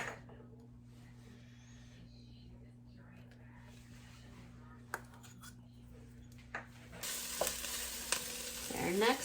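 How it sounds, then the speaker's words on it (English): Onion and garlic hit hot olive oil in a pan over medium heat, bursting into a bright, steady sizzle that builds toward the end, with some stirring and a low hum underneath. "we're going to add 2 tablespoons of olive oil to our pan, which is heating up over medium heat"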